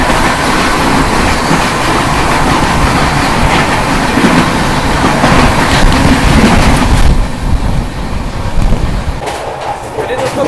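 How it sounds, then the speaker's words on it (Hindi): The Garib Rath Express from New Delhi to Ranchi rushes past at 130 km/h, a loud, close roar of wheels and coaches with wind buffeting the microphone, easing off slightly in the last few seconds. "नई दिल्ली से चलकर रांची को जाने वाली गरीब रथ एक्सप्रेस स्लाइड 130।"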